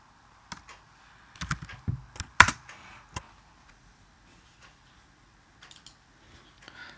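Keystrokes on a computer keyboard while Java if-else code is entered, heard as scattered close clicks in a few quick bursts, then sparse taps with quiet gaps.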